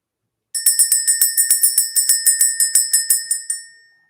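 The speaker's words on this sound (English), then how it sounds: "Let's ring the bell." A small bell is rung rapidly and repeatedly, about fifteen bright ringing strikes in an even rhythm that close with a lingering decay, loud and close with no voices.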